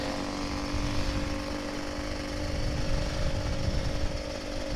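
An old Kawasaki Ninja RR 150 two-stroke motorcycle engine runs steadily nearby with a buzzing, rattly drone that holds an even level and pitch throughout.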